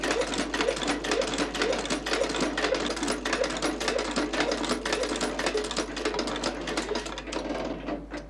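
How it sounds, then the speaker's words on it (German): A shoemaker's sewing machine stitches a shoe upper to its lining in a fast, steady mechanical rattle, close and continuous over a low hum. "und Futter fertiggestellt sind, näht der Schuhmacher sie zusammen"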